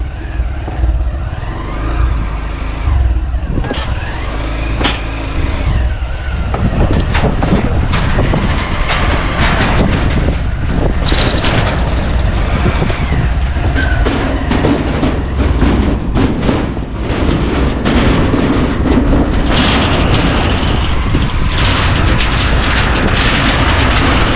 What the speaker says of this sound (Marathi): त्या ब्रिजवरून आपली आता गाडी जाणार आहे